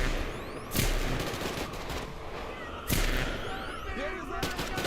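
Video game gunfire with two sharp shots standing out over a noisy background of rattling fire and action effects, moderately loud and close.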